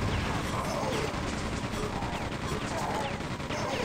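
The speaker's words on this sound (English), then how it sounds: "And in the same bout of chain gun spam, Purri's going to grab 2 frags off of that" A Quake 2 chain gun fires in a dense, continuous stream of rapid shots during a competitive duel, loud and unbroken throughout, with a commentator talking over it.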